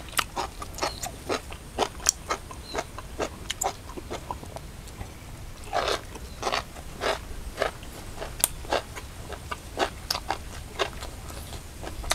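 Crunchy, wet chewing bites of blanched offal up close, a steady run of crisp crackling chomps spaced a second or so apart, with no voices.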